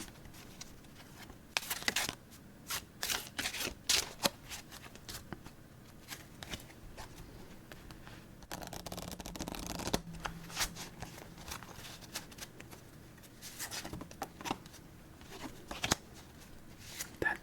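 Shuffling a standard Bicycle playing card deck: quiet, close riffles and bridges in repeated bursts, crisp flutters of cards separated by softer handling and tapping, with no talk.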